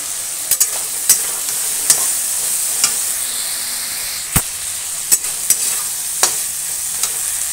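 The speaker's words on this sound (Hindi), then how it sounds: "मसाले से खुशबू आने तक भूनेंगे" Spices frying in hot oil for an aloo matar curry, a steady close sizzle with occasional sharp crackles and pops spread through it.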